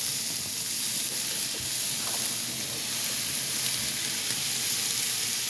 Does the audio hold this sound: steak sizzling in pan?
yes